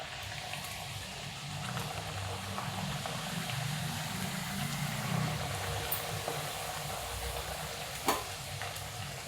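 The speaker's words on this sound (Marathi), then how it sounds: "तापले तेल पुरी सोडते" Sweet puri sizzles steadily as it fries in hot oil, a continuous close crackling bubble with occasional stirring and a brief clink near the end.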